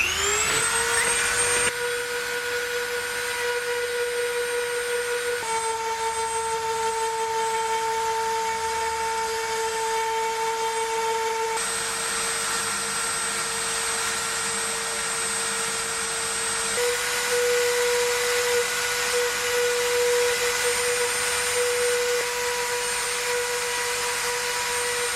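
Dremel rotary tool carving a Charizard Pokemon card deck box freehand, a steady high-pitched whine running continuously with small shifts in pitch as the load changes, close and loud, with no talking.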